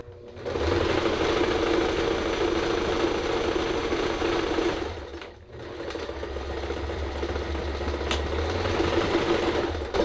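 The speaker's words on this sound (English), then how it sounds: "I backstitch when I get to the end" A sewing machine runs steadily, backstitching at the end of a Dollar Tree rug. It is loud and close, with one brief slowdown midway before the rapid stitching resumes and holds to the end.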